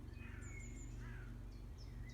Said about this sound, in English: I just hear sounds of birds